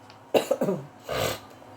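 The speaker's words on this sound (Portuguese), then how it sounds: "Desculpe que eu tô tossindo um pouquinho" A few sharp coughs in quick succession, then a longer rough cough or throat clearing, close and moderately loud.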